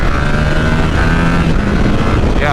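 A 2023 Yamaha R7 engine pulls hard at full throttle in first gear from about 30 mph: a loud, steady droning roar mixed with heavy wind buffeting, with its pitch climbing near the end.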